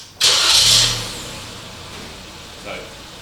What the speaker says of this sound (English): let's start it up and I'll show you how quiet it is